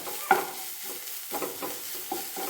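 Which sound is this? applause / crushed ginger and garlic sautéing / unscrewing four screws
crushed ginger and garlic sautéing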